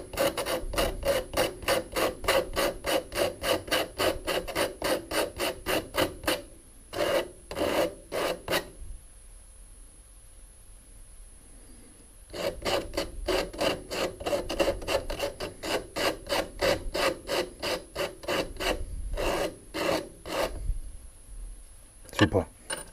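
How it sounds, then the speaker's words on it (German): Homemade extendable fire blowpipe being sanded by hand, rapid rhythmic rasping strokes in two long bursts separated by a brief pause, close and fairly loud with no talking. "Bisschen schleifen."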